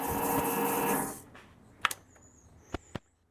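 Vevor MX600 lathe motor whirs steadily with a loud, buzzy whine, then cuts off and spins down, followed by a few sharp nearby clicks and knocks in the quiet.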